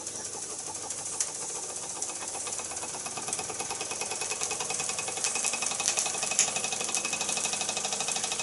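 An engine runs steadily at close range with a fast, even mechanical chatter and hum, growing slightly louder toward the end.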